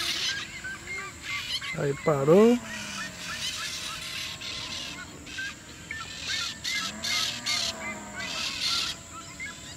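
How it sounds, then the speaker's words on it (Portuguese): Geese or large birds honking loudly near a small flying DJI Mini 2 drone outdoors, repeated calls with a sharp rising burst early on and a softer call later, under steady drone whine and people talking in Portuguese. "Olha os passarinhos querendo pegar ele"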